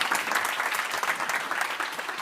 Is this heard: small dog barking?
no